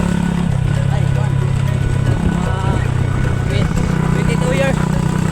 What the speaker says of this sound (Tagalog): Tingnan yung motor ko. Ducati.